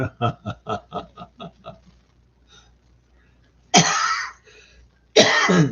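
A rapid burst of about eight short coughs, then a pause and two harsh, louder throaty coughs close to the microphone.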